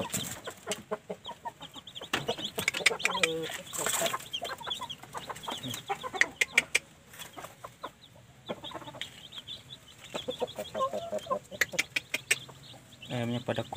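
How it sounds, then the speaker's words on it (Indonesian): Young Bangkok chicken chicks peep and chirp continuously in a rapid, overlapping chorus close by, with occasional brief talk from a man mixed in. "Ini dia anak ayam Bangkok."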